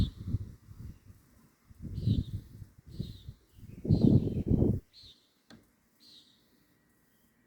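Scattered bird chirps in the small hours before dawn, with light rain falling, short high calls spaced irregularly over low rumbling bursts of background noise.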